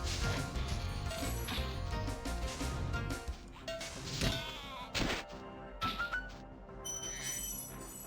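Sheep bleats in Spyro the Dragon on PlayStation, short cries mixed with game music, crashes and whacks, fairly busy and moderately loud.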